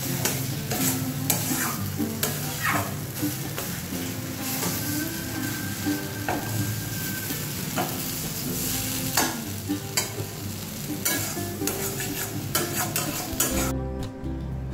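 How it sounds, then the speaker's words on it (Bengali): Pointed gourd (potol) fries in oil in a kadai, giving a continuous close sizzle punctuated by repeated scraping and stirring clicks of a utensil against the pan, with a brief quiet stretch near the end. "কড়াতে দেখুন লাগছে না, তেল ছাড়ছে, এই জন্য ভাজতে হবে, একটু লালচে করে ভাজতে হবে"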